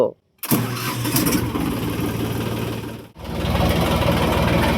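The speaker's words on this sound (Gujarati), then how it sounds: "તો મિત્રો ફાઇનલી ટ્રેક્ટર આપણે ચાલુ કરી નાખ્યું." A tractor engine cranks and catches after a brief silence, then runs at a loud, rumbling idle, with a short dropout midway before it resumes.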